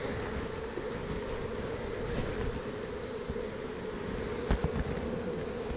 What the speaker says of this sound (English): We'll shake these bees off